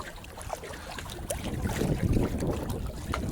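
Wind gusting over open water aboard a boat, a steady broadband rush that swells louder midway, with faint splashing and creaks mixed in and no talking.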